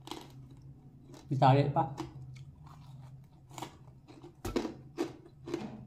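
A person chews a first bite of food close to the mic, with crunchy bursts of chewing between short spoken words in Tagalog.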